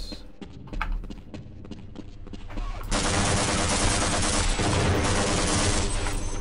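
Rapid gunfire from a tank auto-firing in Half-Life: Blue Shift, starting with scattered sharp shots, then bursting into a loud, sustained barrage that lasts to the end.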